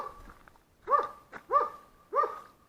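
A dog at an old water mill gives three loud, sharp barks at a steady rhythm, each a single clipped woof with a short gap between, close by and with no talking.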